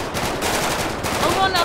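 Rapid bursts of gunfire from a GTA 5 police roleplay shootout crackle close and loud in quick succession, with a few sharp clanks near the end.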